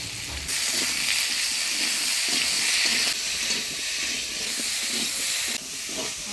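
Boiled potatoes with turmeric and salt stirred in hot spiced oil give a loud, continuous sizzle close by, with soft scraping stirs under the steady hiss in a village kitchen.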